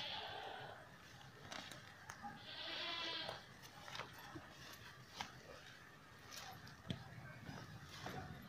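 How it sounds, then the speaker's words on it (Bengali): Goats turned loose in a field of tall bhuro grass on a small farm, with a few distinct bleats rising over a steady outdoor background, moderately near, and people talking nearby. "আর এই ঘাসের জমির ভেতরে ছাগলগুলো ছেড়ে দিয়েছে"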